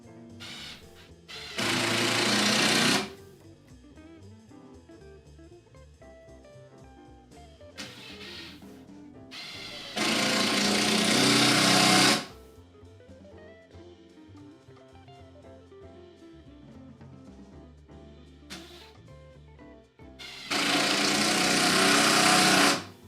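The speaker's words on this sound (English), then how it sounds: "once we get a couple screws zipped in, that will be our second foot" A power drill drives screws into a wooden post of a washing machine riser, whirring in three loud bursts of about one to two seconds each, separated by quieter handling and clatter.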